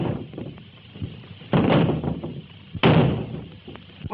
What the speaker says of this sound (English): Help me get this door down.